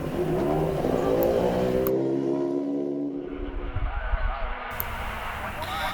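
Indy race cars built on Dallara chassis with Honda or Chevy engines roar past at Road America, a loud high engine whine that shifts pitch as a car passes, with a second car's roar close behind.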